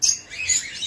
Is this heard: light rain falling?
no